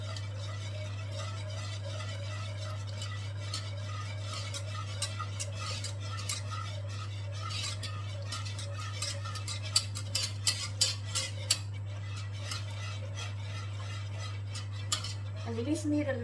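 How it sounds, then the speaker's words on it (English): A spoon stirs flour and butter into milk in a pan over low heat, making irregular scraping and clinking against the metal. The stirring runs over a steady low electrical hum. "just keep stirring the flour and the butter into this milk until it becomes smooth"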